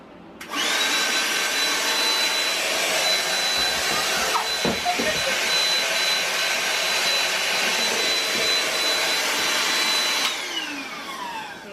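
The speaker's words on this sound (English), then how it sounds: "I used my husband's vacuum, like his hand vac for this" A handheld vacuum cleaner whines loudly and steadily for about ten seconds with a high airy roar, then cuts off and winds down, close by in a small kitchen, with no talking.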